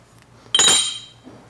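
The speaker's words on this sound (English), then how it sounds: "I'm just tapping on the die to get it close." A single sharp metallic tap on a metal die rings briefly with a bright clink, close and distinct in a quiet workshop.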